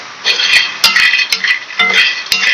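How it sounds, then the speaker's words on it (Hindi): Phool makhana (fox nuts) being stirred and fried in a pan, bright scraping and rattling clinks of the spoon against metal in repeated close, loud strokes, with no voices. "थोड़ी देर इसको और फ्राई कर लेंगे। हिलाते रहना।"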